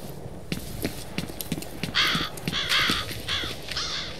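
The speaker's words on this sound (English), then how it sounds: "Motherfucking crows." Several crows caw in the first-person shooter F.E.A.R. Extraction Point, harsh repeated calls over a rhythmic clopping patter, the caws loudest in the middle and close by.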